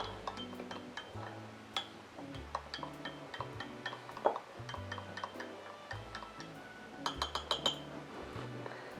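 A spoon stirs a cocktail with pumpkin puree in a glass, giving close, irregular light clinks and ticks against the glass over faint low background tones.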